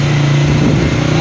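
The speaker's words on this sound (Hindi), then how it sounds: "तो हम लोग बाइक पे आगे ही निकलते हैं" A motorcycle rides alongside a long traffic queue at a checkpoint on the road from Murree Mall Road toward Ayubia and Nathia Gali, its steady mid-pitched engine drone loud and close throughout, with a faint voice nearby.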